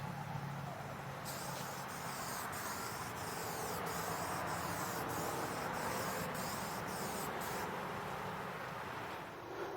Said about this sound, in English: Citral 266, we're just going to spray it on